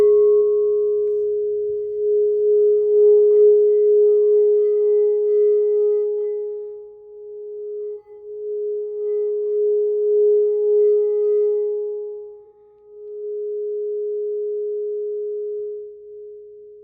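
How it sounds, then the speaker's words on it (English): Sound bowl struck and rung, a pure sustained tone that swells, dips briefly and rings on steadily for many seconds with a faint low rumble at the start, no talking. "gonna use the sound bowl to cleanse the energy a little bit before we start with the collective"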